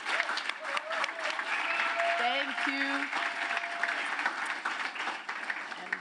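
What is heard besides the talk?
audience applause for the host Ed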